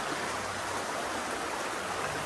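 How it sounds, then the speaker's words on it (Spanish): Water rushes steadily along an irrigation channel in a ravine, a close, continuous broadband wash with no voices. "Aquí estoy en la quebrada, una acequia que corre el agua"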